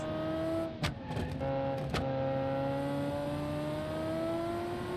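A turbocharged car engine revs in a racing game, its tone climbing steadily, with a couple of sharp clicks early on and a sustained whining drone.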